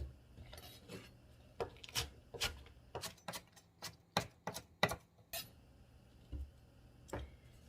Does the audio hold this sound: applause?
no